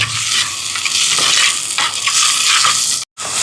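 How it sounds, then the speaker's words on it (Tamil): Garlic, green chili and shallots sautéing in a pan for an anchovy curry, a continuous bright sizzle with soft stirring scrapes, close and steady, cut by a brief silent gap near the end. "வெள்ளைப்பூடு பச்சை மிளகாய் சின்ன வெங்காயம் இதெல்லாம் நல்லா வதங்கட்டுக்கும்"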